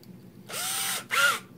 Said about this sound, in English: So we open up each hole with the next size drill up.